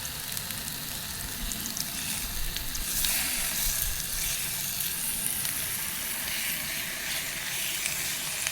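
Bacon cooking outdoors over a camp fire near abbey ruins gives off a steady soft hiss and crackle, continuous and fairly faint, with no talk.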